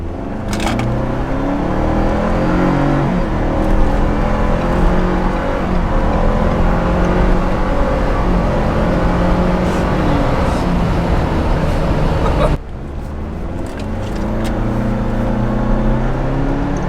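A tuned Ford Bronco accelerates from a rolling start, its engine a steady, loud broadband roar that holds for about twelve seconds, dips briefly as if at a gear change, then builds again.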